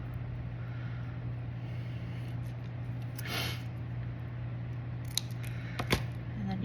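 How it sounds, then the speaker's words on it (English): Scissors snip a small triangle out of folded paper for a children's bird craft, a few faint crisp cuts over a constant low room hum, close by. "So what you're going to do is cut away from that fold, a little triangle."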